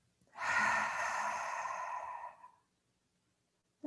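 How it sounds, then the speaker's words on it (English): A single long, breathy exhale through open lips during a yin yoga session, soft and close, lasting about two seconds before silence. "We'll open the lips to exhale."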